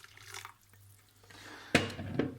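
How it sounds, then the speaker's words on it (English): Hot water poured into tomato paste for Moroccan harira soup gives a faint, quiet trickle, then a sudden louder splash near the end that continues as a running pour, up close. "So now we're gonna add our water. It's also 1 liter of hot water."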